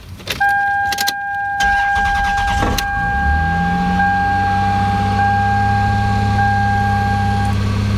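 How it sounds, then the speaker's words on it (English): A car engine cranks over with a few rough starter bursts, then catches and settles into a steady idle while a continuous electronic tone from a scan tool sounds above it. "now start the engine one time"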